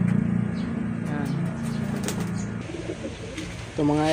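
Pet breeding pigeons or doves coo softly at close range, with bursts of wing flapping, and a voice speaks briefly near the end.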